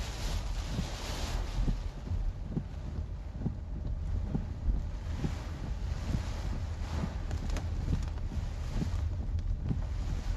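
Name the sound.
strong wind during Hurricane Melissa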